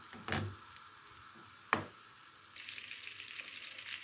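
Butter and chocolate melt together in a pan, a faint soft sizzle under a couple of sharp utensil clinks, quiet and close.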